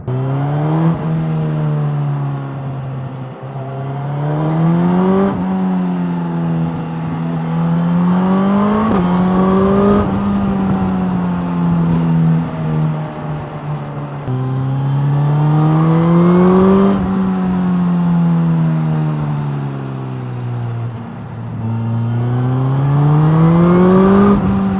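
A Suzuki GSX-S1000GT sports tourer motorcycle being ridden, its engine droning steadily close up with repeated rises and dips in revs as it accelerates and shifts, continuous and loud with no talking.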